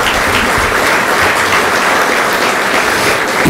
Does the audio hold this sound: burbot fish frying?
no